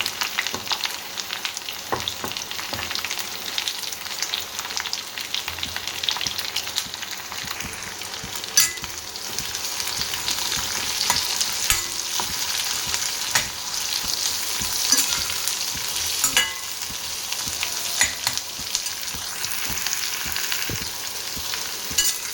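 Garlic, curry leaves and chopped onion fry in a pan with a steady, dense sizzle, punctuated by small pops and the occasional scrape of stirring, close and continuous throughout with no talking.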